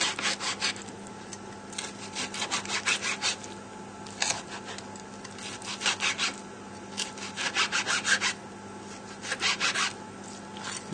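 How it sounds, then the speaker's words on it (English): A knife slicing cooked medium steak into thin strips on a cutting board, repeated rasping sawing strokes in quick bursts, close and fairly loud, with no talk. "we're just going to cut this into nice little strips"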